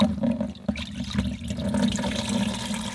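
A plant macerate for the vegetable garden pours through an old curtain used as a strainer, giving a continuous close trickle and splash of liquid with small gurgling bursts.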